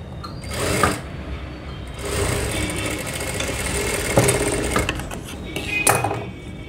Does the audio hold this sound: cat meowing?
no